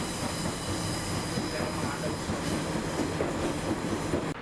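An Arriva Trains Wales DMU runs on rails near Cardiff, a loud rumbling roll with rhythmic wheel clatter and hiss heard from on board, continuous until it cuts off abruptly.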